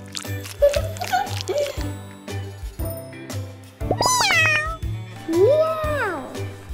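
A person imitates a cat, giving several high, meowing cries in bursts over background music.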